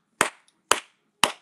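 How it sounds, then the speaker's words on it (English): Three sharp, loud hand claps spaced about half a second apart, made by a child, with nothing else around them. "What's the clapping?"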